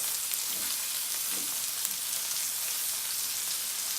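Steak in a pan off the heat, giving a soft, steady sizzle with faint crackles and pops, fairly quiet and continuous with no voices.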